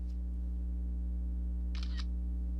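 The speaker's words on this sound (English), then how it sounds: "Listen to what it sounds like when you take a picture." A camera shutter click from a Unihertz Jelly Pro small smartphone, one short crisp snap near the end over a steady low hum, with a faint tick at the start.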